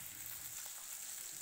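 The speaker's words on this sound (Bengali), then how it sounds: "মাছের একদিক ভাজা হয়ে গেছে, এবার অন্য পিঠ উল্টে দেব। মাছ ভাজা হতে হতে" Fish pieces frying in a pan with potato and brinjal curry in the making, a faint, even sizzle running steadily and alone for a moment.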